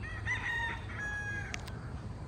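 A rooster crows once among chickens at feeding time, a loud, close, drawn-out call with clucking hens and farmyard noise in the background.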